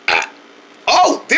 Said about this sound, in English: I never heard a baby burp that loud before.